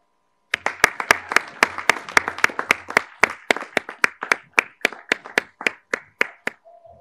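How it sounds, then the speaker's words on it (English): Sparse clapping from a small group welcoming new team members at a virtual staff meeting, a few dozen distinct sharp claps over several seconds, close and fairly loud, no voices. "Please give them a round of applause."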